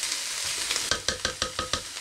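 Minced meat and vegetables sizzle and fry in a pot, a steady hiss punctuated by about six rhythmic scraping stirs in quick succession, close and fairly loud with no talking.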